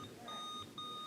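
Quiz buzzers at a county technology bowl competition sound in two steady electronic beeps, a long tone followed by a second after a short gap, loud and clear with no talk.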